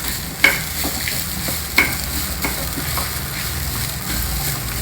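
A spoon scrapes and taps a few times stirring grated coconut in a frying pan over a steady soft sizzle, close and fairly loud, with no voices.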